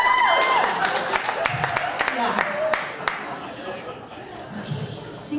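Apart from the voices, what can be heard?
audience clapping for single moms at stand-up show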